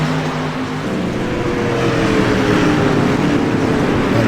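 Street stock race cars in the iRacing dirt-track game, engines droning loudly and steadily with a rising tonal whine as the pack runs down the back stretch toward the line.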